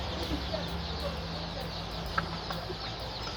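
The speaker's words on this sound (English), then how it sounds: "Okay, these are layer chicks." Young layer chicks, or pullets, cluck softly in a brood, with scattered short calls over a steady background hum and no one speaking.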